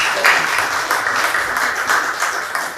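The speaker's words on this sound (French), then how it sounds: "Je voulais demander une fois de plus qu'on applaudisse pour vous" Audience applause at a cultural presentation event, dense and continuous clapping from a sizeable crowd, loud and close throughout.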